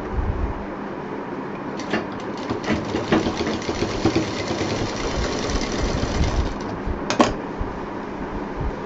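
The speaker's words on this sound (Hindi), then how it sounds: "करीब 2 इंच पाइपिंग ऊपर तक सिलेंगे।" A sewing machine stitches piping along the edge of a quilt case in a continuous close whirring run, with a few brief louder clatters partway through.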